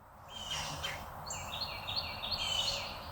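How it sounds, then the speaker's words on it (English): Several high, sweet bird chirps and short trills repeat over a steady outdoor hiss, moderately near and fairly quiet. "That's what I just like to hear the birds chirping"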